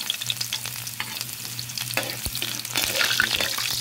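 Garlic frying in oil in a pan for pancit miki with sardines and chayote, a soft continuous sizzle with scattered stirring scrapes, rising slightly louder toward the end, no talk.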